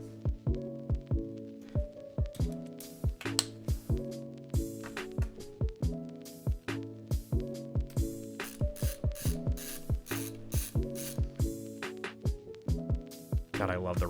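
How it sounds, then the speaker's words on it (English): Ratchet screwdriver driving screws while a mechanical keyboard is assembled, giving rapid repeated clicking bursts in a steady rhythm up close, with a low hum underneath throughout. "God, I love the ratchet."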